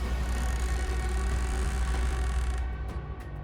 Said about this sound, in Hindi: डालें चरमराने लगी